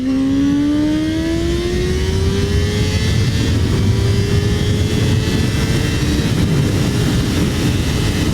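A 2021 Honda CBR1000RR-R SP motorcycle accelerating hard under throttle, its loud, close engine note climbing steadily in pitch over heavy wind roar without a break.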